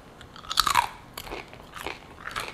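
Close, crisp crunching as a crunchy baked snack is bitten and chewed, several brittle cracks followed by softer rhythmic chewing.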